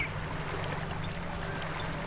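Gentle water lapping and sloshing softly around a girl wading up to her shoulders, a steady low wash of small splashes continuing evenly throughout without pause.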